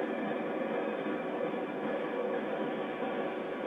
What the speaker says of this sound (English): while watching the trains pass.